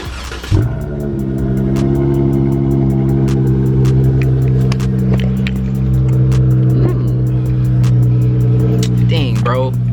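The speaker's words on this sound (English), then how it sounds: "So I literally started the car, like I did a cold start already before I even recorded this." A Dodge Challenger SXT Plus engine idling after a cold start, a loud steady close-up rumble that catches with a jolt at the start and then holds an even, throaty drone with faint ticking throughout.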